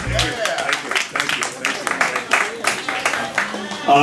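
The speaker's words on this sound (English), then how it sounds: "can we give him a nice warm round of applause" Applause and clapping at a senior Tuesday brunch in Harlem, with uneven bursts of handclaps from a crowd while a speaker talks over the top.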